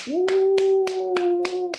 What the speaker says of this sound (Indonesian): Kita kasih tepuk tangan untuk 3 orang teman kalian tadi.